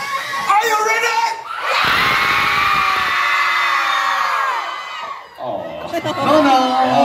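An audience at a live event shouts and cheers together, a loud sustained crowd roar lasting several seconds, with voices and whoops around it.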